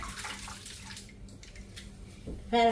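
Tap water runs steadily while millet grains are washed for dosa batter, a continuous watery hiss with a brief louder gush near the end.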